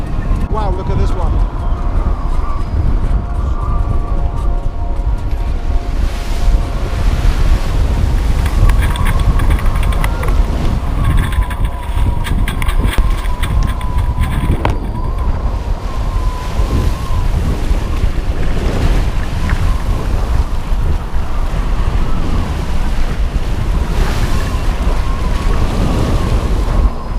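Wind roars and North Sea waves slosh and splash steadily around a small boat crossing alone in wintertime, a loud, continuous rush close to the microphone with constant buffeting.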